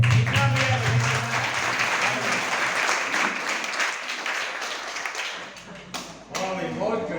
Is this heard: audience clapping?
yes